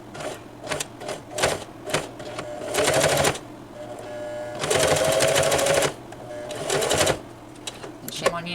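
A sewing machine runs a zigzag stitch at 4 length and width on a purse lining, whirring in several short bursts and one longer run, with a voice heard in the pauses.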